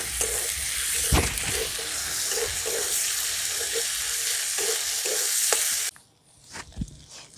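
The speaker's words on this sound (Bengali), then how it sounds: "আদা রসুন ভাজা ভাজা হয়ে গেছে" Ginger, garlic paste and green chillies fry in a pan with a steady sizzle and rhythmic stirring scrapes. The sizzle cuts off abruptly near the end, leaving near silence and a faint clink.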